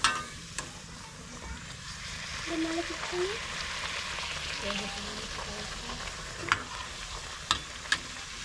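Ragi flour puri fries and puffs in hot oil with a steady, close sizzle and crackle, broken by a few sharp pops and a soft stir, while a voice talks faintly under it.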